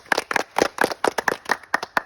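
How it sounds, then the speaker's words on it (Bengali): A small group applauds the winner of a village strength contest with rhythmic hand claps, about ten sharp, evenly spaced beats at close range. "এখন আজকের জন্য আমাদের প্রতিযোগিতায় বিজয় হয়েছে রিফাত তার জন্য হাততালি সবার"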